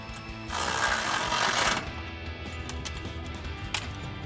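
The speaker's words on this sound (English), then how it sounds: "then we'll tighten that down with our 13 millimeter socket for our bottom bolt" A ratchet spinning a 13 millimeter socket to tighten a bottom bolt, a dense burst of rapid clicking for about a second, followed by quieter mechanical taps and a single sharp click.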